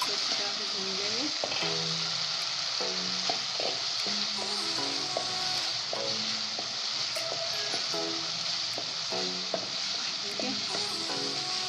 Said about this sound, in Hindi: ये देखें हमारी चिकन बिल्कुल तैयार हो गई है। और इसको अच्छी तरह से भून लेंगे।